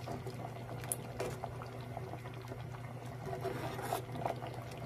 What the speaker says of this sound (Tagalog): So, pakuluin lang po natin ng mga 5 minutes.